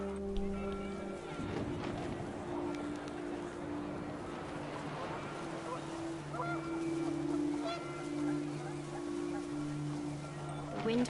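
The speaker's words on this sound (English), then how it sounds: "The wind picked up and panicked geese appeared and quickly went." Panicked geese honk in wind in the video game What Remains of Edith Finch. The scattered honks sit over a steady humming background, with a voice talking now and then.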